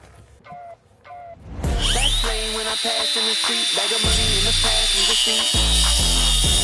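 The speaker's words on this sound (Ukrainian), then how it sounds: "давайте подивимося, як працює болгарка по бетону, чи справляється з легкістю" A DeWalt DCG 405 cordless angle grinder spins up and cuts into concrete, a loud sustained high whine with gritty grinding that holds to the end, after a few quiet knocks at the start.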